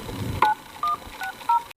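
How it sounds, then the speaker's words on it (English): A phone number is dialed on a mobile phone: four short, crisp keypad beeps in an uneven rhythm, close and clear over quiet background hiss. "So we have to use my phone to call"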